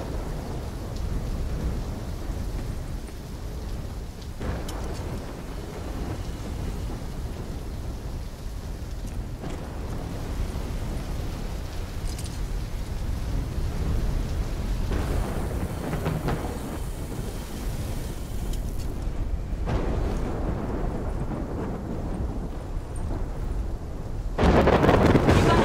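Stormy ambience from the video game Call of Duty Black Ops 3: a steady roar of heavy rain and low rumbling thunder runs throughout, swelling in places and ending on a louder burst.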